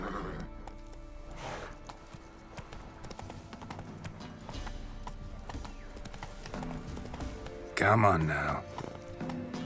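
Roach the horse gallops with steady clip-clop hoofbeats in The Witcher 3, a sharp whinny bursting out near the end while someone speaks briefly over the hooves.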